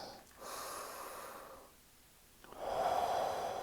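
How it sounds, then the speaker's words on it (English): Slow, deep breaths taken during a guided mindfulness exercise: a long inhale, a pause, then another full breath, close and soft with a breathy hiss and no talking. "So 2 more breaths."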